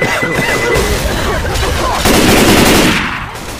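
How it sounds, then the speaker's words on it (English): A pipe bomb explodes amid gunfire in the Left 4 Dead 2 zombie shooter. Dense rapid gunfire rattles loudly throughout, with a heavy blast about halfway through that thickens the din before it tapers off. "Throwing a pipe bomb."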